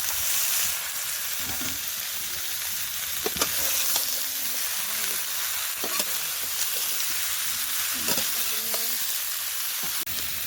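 Beet and beans sizzle in oil in a pan with other salted vegetables, a steady frying hiss broken by occasional scrapes and clinks of stirring.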